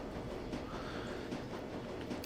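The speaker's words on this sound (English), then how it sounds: "The rattle of the wheel begins on track and shimmying screech." Rattling wheels of a U-Bahn train on the track in Shadowrun: Dragonfall, a steady clattering rumble with faint metallic screeches as it slows, no talk over it.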